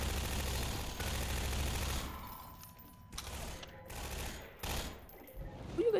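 Bursts of gunfire from Half-Life 2, a dense volley at first then scattered shots and rattling bursts, loud and close in a busy game mix.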